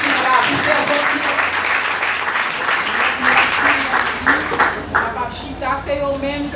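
A church congregation claps steadily and loudly for several seconds while voices talk and call out over the applause.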